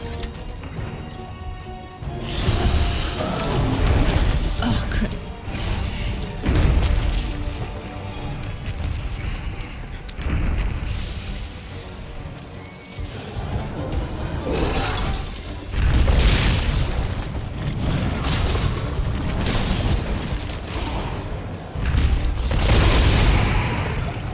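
Repeated booming explosions from the video game Monster Hunter World go off in loud, irregular bursts over a dense layer of game sound effects.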